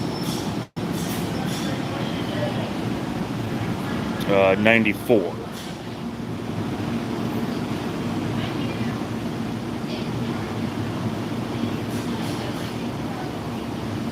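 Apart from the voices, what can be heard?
Boston train arriving at Newark Airport station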